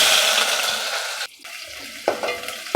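Onions and mustard seeds fry in hot oil with a steady, loud sizzle that drops briefly partway through, then resumes with stirring scrapes.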